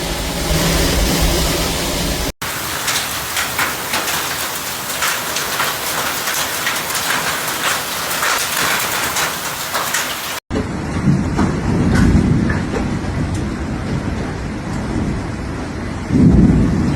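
Heavy rain pours down during a Brisbane storm, a dense continuous hiss of drops on surfaces with low rumbles of thunder underneath, filling the whole stretch loudly and without voices, in several separate takes.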